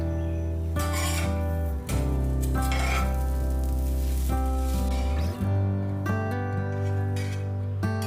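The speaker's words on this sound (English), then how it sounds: "I'll coat the paratha with a good layer of ghee and cook them while also pressing" Parathas coated in ghee sizzle steadily on a hot pan as they are pressed to crisp, with clinks of a utensil against the pan and a constant low background hum.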